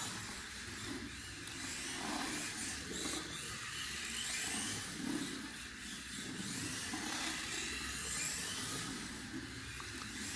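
A 1/43 scale Hstar D43-01Q RC car runs at high speed with a continuous high-pitched electric motor whine and drivetrain buzz, close and steady for the whole stretch with slight swells in pitch and no talk.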